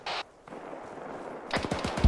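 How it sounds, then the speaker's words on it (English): Gunfire in the military shooter ArmA 3: a short burst at the start, a pause, then a rapid string of automatic shots near the end, fairly close and loud. "we're hearing gunshots from inside buildings to our southeast"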